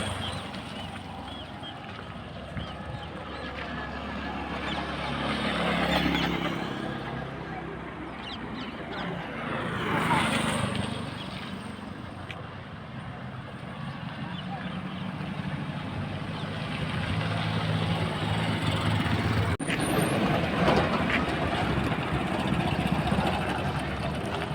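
Engines of motorcycles and passing vehicles rumble continuously on a road over a railway bridge in Kajgaon, Jalgaon, swelling as vehicles pass near and fading, with faint voices in the background.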